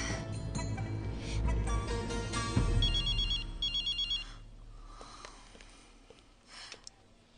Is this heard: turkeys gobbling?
no